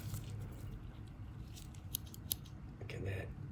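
Small scissors on a Victorinox Alox pocketknife are opened and snipped, giving a few faint, sharp metallic clicks over a quiet room hush.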